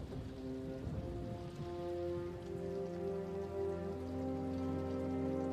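Steady rain falling in a film scene about Winston Churchill, a continuous dense patter with a low rumbling undertone throughout, alone without voices.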